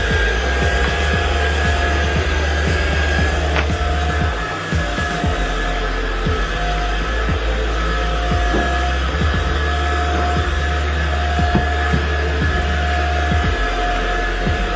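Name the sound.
Ultenic U11 Pro cordless stick vacuum cleaner running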